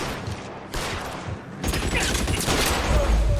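Gunfire in the L.A. Noire video game: a sustained fusillade of close, loud shots, denser and heavier in the second half, under faint background talk.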